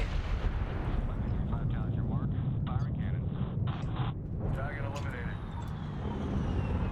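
A tank blows up in the Medal of Honor video game, a loud booming blast over continuous rumbling battle noise, with voices talking over it.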